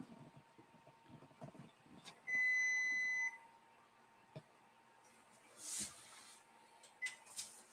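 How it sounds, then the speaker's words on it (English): A kitchen timer goes off for a baking thin crust pizza, one sustained electronic beep of about a second, clear and fairly close, amid faint kitchen shuffling and clatter with no talk. "So there's our timer."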